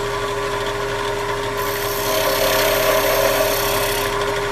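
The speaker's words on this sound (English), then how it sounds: "I want to round it over just a little bit like this." Woodturning tool rounding over a wooden snowman Christmas ornament on a lathe, a steady loud scraping hiss over the constant hum of the motor, growing slightly rougher midway.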